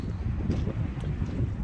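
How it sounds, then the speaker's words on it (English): Strong wind blowing outdoors at an off-grid homestead on a chilly day, a steady low roar with gusts buffeting the microphone throughout, no voices present. "very windy"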